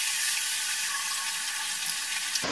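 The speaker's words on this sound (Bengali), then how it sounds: "চাল কুমড়োগুলো দিয়ে দিচ্ছি।" Chopped ash gourd, salted beforehand to draw out its water, goes into a hot pan with a fried hilsa head, giving a loud, steady sizzling hiss that stops abruptly just before the end.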